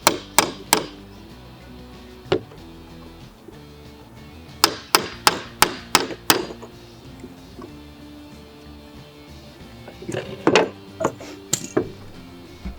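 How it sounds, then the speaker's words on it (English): Hammer strikes ring out in bursts on a nail set driving a nail through a wooden pallet: a few quick blows, a pause, then a rapid run of five or six, and more knocks later, loud and close. "Just hammer it through."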